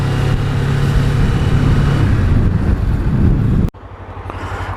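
A vehicle engine hums loudly with heavy wind rushing over the microphone while pulling out of the Honda 21st Motor dealership in Swanley, then the noise drops abruptly near the end before rising again.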